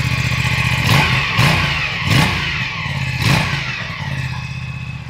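Aprilia Tuono 457 (2025) motorcycle with a low-mounted side exhaust, its engine idling and then revved in four sharp blips that rise and fall over a fairly deep, steady idle, heard close by.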